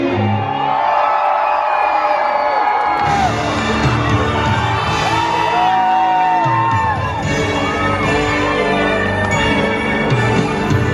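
Massive full-house crowd at Magic Kingdom's Happily Ever After fireworks, 2023, cheering and whooping loudly and steadily throughout, with music swelling beneath the roar of voices.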